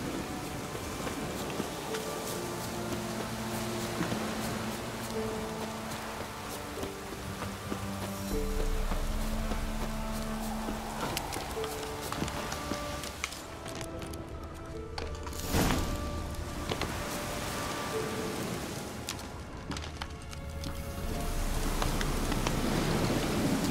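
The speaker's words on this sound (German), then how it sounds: "Die Wettermacher haben uns Regen gebracht." Steady rain falling in The Witcher 3, a continuous dense patter with a low rumble beneath and a faint musical bed, holding even throughout with no speech.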